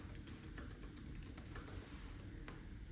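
Soft, fairly quick keyboard typing in short irregular bursts, faint and close, as an item description is entered for an online clothing listing.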